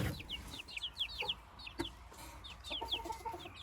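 Several hens, including Brahma hens, cluck and chirp in quick, scattered bursts, close by, with a few soft thumps in the background.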